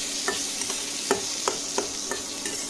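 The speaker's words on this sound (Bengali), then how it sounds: "মুসুরির ডালটা দিয়ে করতে থাকলাম।" Masoor lentils stirred in a frying pan, a spoon scraping in several distinct strokes at an irregular rhythm over a steady soft sizzle, close and fairly quiet.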